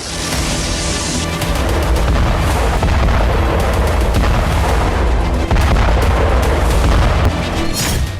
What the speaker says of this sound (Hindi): किंजल के साथ ही बैलिस्टिक मिसाइलों से ताबड़तोड़ हमला हो रहा है।